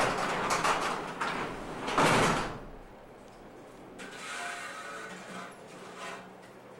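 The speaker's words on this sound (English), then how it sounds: "So let's close the door." A sliding door on a strut-supported frame is pushed shut, giving a broad scraping rumble with a firm thud at the end and a quieter rattle afterward. It is fairly close, with no talk over it.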